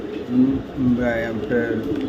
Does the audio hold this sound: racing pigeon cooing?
yes